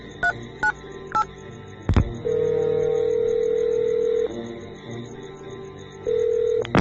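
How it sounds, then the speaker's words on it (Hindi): A mobile phone's keypad tones beep several times, followed by a sharp click and a steady ringback tone sounding in long pulses. "अपने मोबाइल से किसी को फोन करने लग जाता है।"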